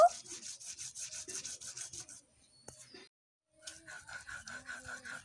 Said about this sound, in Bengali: একদম মিহি করে বেটে নেব।